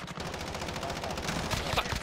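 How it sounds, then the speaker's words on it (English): Rapid bursts of automatic gunfire in the Warzone video game crackle through a busy firefight, steady and fairly loud across the whole moment. "Oh, you're shooting across the way."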